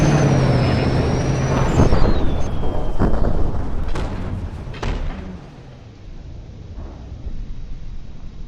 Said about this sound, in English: those pack cannons aren't doing anything